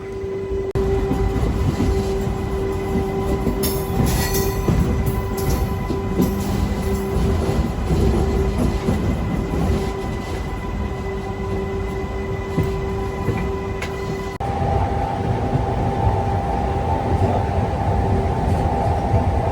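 A MEMU passenger train runs steadily on the Kacheguda to Raichur route, its loud, continuous rumble and rattling wheels filling the carriage with a constant roar and a faint high whine, without a break.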